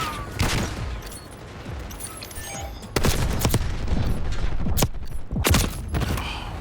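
Gunfire in Black Ops 6 comes as several loud, sharp shots and short bursts spread across the span, with mechanical clicks and in-game effects between them.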